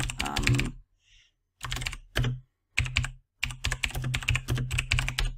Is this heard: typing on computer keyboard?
yes